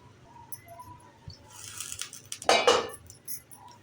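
An idli cooker lid set down in a home kitchen while making idli and dosa batter, heard as a quick metallic clatter and rattle, close and moderately loud, rising in a short burst of clinks over a quiet background.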